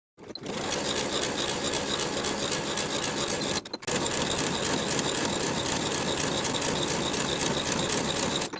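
A sewing machine stitches the side seams of a pajama top in one long continuous whirring run, briefly stopping once partway through, close and steady.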